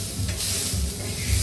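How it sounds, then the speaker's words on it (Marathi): Green peas dry roasting in a pan give off a continuous soft hissing, crackling sizzle, close and steady throughout, with no voices. "छान आपले मटर आता छान भाजत आलेले आहेत."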